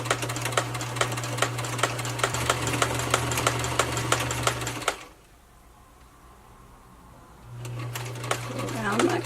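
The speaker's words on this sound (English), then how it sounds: "then you start to sew" A sewing machine starts stitching fabric and runs loud and close with a rapid, even clatter. It goes quiet for a few seconds, then starts up again.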